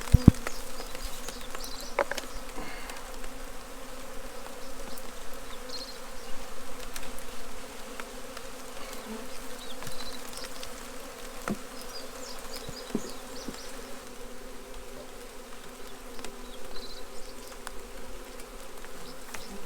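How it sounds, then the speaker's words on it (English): Many honeybees swarm around an opened hive, making a dense, continuous buzzing drone that stays steady throughout, with occasional louder passes close by and faint handling knocks. "then they'll all go back into this hive."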